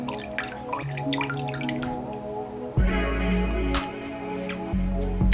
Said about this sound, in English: I'm going to add about 1/4 cup of light soy sauce